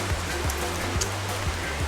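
A small creek at a bush campsite flows with a continuous, fairly loud rushing and gurgling, with soft low thumps recurring under the water sound.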